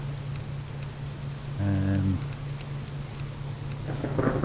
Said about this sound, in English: Yeah, here comes the rain.